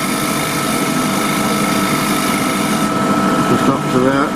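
Wood lathe spinning a lamp base for an Eaton table lamp while a gouge cuts, a loud steady hum and hiss that holds throughout, with a voice briefly heard near the end.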